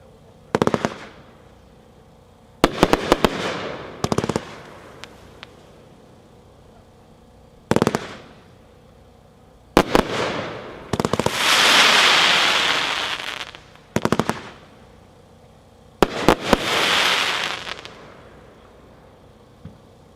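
Sofa King Fancy 33-shot firework cake going off outdoors, irregular bursts of sharp launch thumps and pops, with two longer crackling, sizzling breaks trailing off between volleys.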